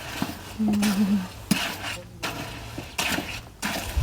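A utensil scraping and stirring snail curry inside a pot, with repeated rubbing and knocking sounds at close range and a faint background hum.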